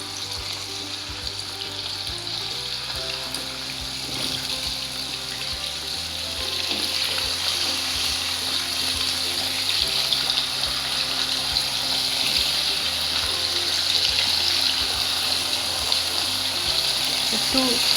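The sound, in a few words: turmeric-coated chicken pieces frying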